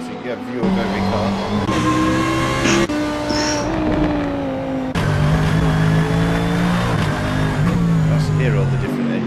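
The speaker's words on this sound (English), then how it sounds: "All the different engine sounds." GT3 race cars lapping Brands Hatch during a championship round. Engines drone loud and steady, their tones shifting and overlapping as cars change gear and pass, with no pause in the roar.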